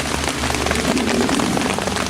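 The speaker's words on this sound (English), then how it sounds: "Given that it's raining hard" Heavy rain pours down steadily outdoors in a woodland setting, a dense, continuous hiss of drops striking surfaces close by with no pauses and no voices.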